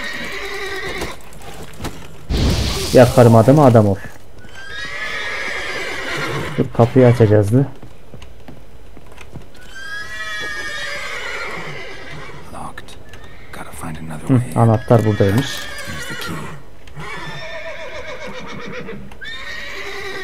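In The Witcher 3 Wild Hunt, a startled horse lets out several loud whinnies, each a second or so long, spaced through steady male chatter, with faint hoof clops between them.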